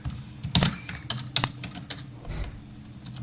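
Code is typed on a computer keyboard, a close run of quick key clicks with a couple of heavier strikes, steady through the short stretch with no talking.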